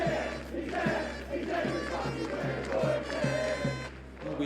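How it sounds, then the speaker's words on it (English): A football crowd in a Premier League stadium sings a chant for Roy Kent, a loud, massed rhythmic chorus with regular pulsing beats filling the whole space. "the crowd serenades Roy Kent with a song that's echoed through the Premier League for more than a decade"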